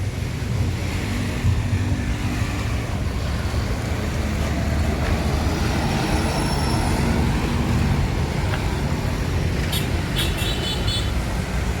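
Steady broadband road rumble heard from inside a moving Adi Prima bus with green livery, continuous and fairly loud with wind-like noise and a few faint high ticks near the end.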